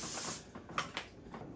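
Olive oil pan spray hisses in a short burst onto kitchen foil, then a few faint clicks and taps follow close by.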